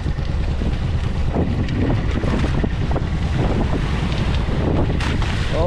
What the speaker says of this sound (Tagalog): Oh, lumalaki ang alon.